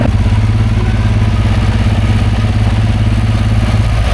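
Steady, loud tractor engine running close by with a low rhythmic throb and mechanical clatter, consistent with a tractor pulling a New Holland 1411 disc mower as it starts cutting hay; no talking.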